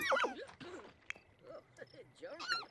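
A game horse on a ranch in The Sims whinnies and neighs several times in short bursts, fairly close, with brief clip-clop and other game sounds between the calls.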